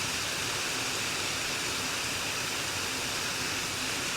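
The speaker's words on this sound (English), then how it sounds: "that's nice and tame and a nice little waterfall" Flood water in Spain pours over a small waterfall in a steady, dense rush of broadband noise, continuous and even throughout with no voices.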